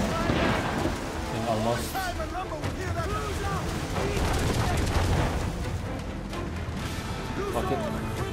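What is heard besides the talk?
ship cannons firing in Assassin's Creed IV: Black Flag video game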